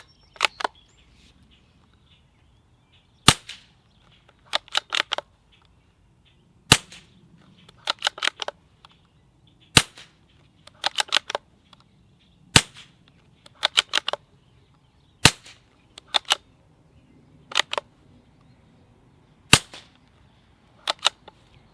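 Suppressed .22 LR bolt-action rifle on a 16-inch barrel firing CCI Suppressor subsonic ammunition: a run of sharp, quiet cracks, some single and some in quick clusters of two or three, each followed by a brief mechanical clatter, with no talk.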